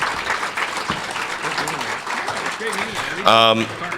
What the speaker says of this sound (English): one more big round of applause for our panel